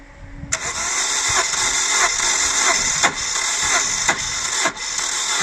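A hard-starting 2000 Holden Astra engine cranks over continuously with a steady, labored whirring and periodic rhythmic pulses, heard close and loud without catching.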